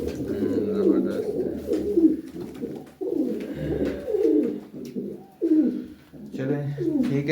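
Pigeons coo continuously at a window in soft, throaty rolling phrases, close by, with repeated low warbling calls overlapping one another.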